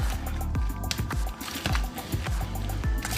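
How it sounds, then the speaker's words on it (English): Fresh pico de gallo seasoned with black pepper and kosher salt being stirred, giving close, repeated wet squelching and sloshing strokes in a quick irregular rhythm. "Give it a good stir."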